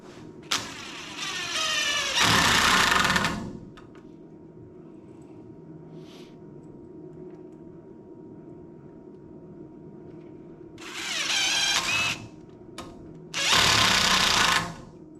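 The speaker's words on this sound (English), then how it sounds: "Put these in and then we'll screw them from the other side." Two bursts of a whining power drill driving screws for a pole barn mezzanine railing, separated by a long quiet stretch, the later pair coming close together, each lasting a second or two.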